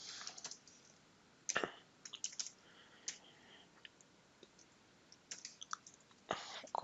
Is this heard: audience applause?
no